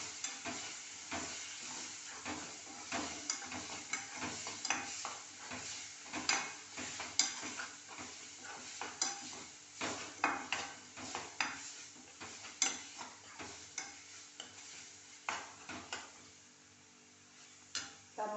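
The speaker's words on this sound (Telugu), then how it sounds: "బాగా వేగాలి." Ginger, coconut paste and garlic fry in a pan for a potato masala curry, a soft sizzle punctuated by repeated scraping and clinking strokes of a spoon against the metal.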